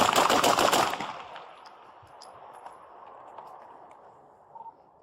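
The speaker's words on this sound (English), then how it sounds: "shots fired" A loud burst of rapid gunshots fired by police officers at a man with a knife opens the scene, then gives way to ringing, a quiet street ambience and faint distant clatter.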